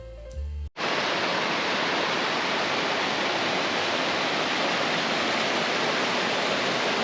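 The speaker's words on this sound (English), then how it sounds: "This is the Paradise River flowing right beneath the fourth crossing trailhead bridge." The Paradise River cascades beneath the fourth crossing trailhead bridge on a mountain trail, a loud, continuous whitewater roar that starts abruptly after a short cut and holds steady throughout.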